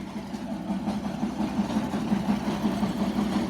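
A Chinese jaw crusher with belt drive runs steadily, a loud continuous mechanical rumble with a faint rhythmic pulsing and no voices.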